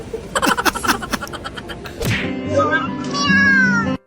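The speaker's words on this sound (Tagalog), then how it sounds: "Ang cute na pusa." A cat meows loudly and close, a long, wavering, drawn-out cry that follows a stretch of rustling and tapping noises and a sharp thump.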